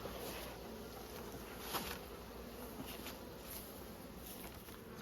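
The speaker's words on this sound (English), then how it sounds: "Quite a few bees in there" Honey bees buzz inside a hive during a mid-winter inspection, a steady, soft, continuous drone with a few louder passes, no voices.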